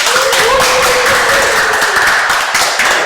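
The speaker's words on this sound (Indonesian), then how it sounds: "Kita kasih tepuk tangan dong." An audience gives a brief burst of applause, loud and close, with sharp clapping and taps for about three seconds and hardly any talk.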